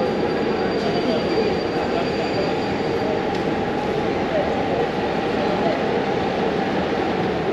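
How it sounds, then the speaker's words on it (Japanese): A European passenger train arrives at a station platform, its wheels rolling and squealing in a loud, steady roar that fills the scene, with faint voices and station noise beneath. "私の乗る列車が来ました。"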